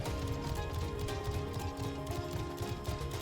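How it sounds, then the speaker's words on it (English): A mount's hoof clip-clops patter steadily in Final Fantasy XIV, a continuous rhythmic trot under background music with no voices. "the sound effect of the hoofs feels a little weird"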